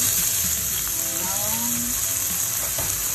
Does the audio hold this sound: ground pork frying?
yes